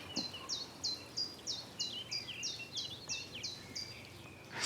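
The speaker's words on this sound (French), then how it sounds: "Écoute les oiseaux." Birds sing in a garden, a rapid series of bright repeated chirps and trills close by, rhythmic and steady against quiet background ambience.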